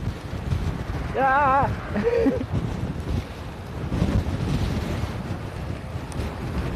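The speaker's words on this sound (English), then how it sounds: "it's windy" Rough, gusty wind buffeting the microphone in a low roar, with a brief vocal exclamation and hum near the start.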